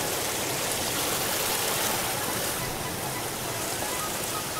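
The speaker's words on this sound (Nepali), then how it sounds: "यहाँ तल बाढी आउँदैछ" A flooded river rushes below a misty mountain path in a Nepali village, making a loud, continuous roar of churning water that fills the whole stretch without a break.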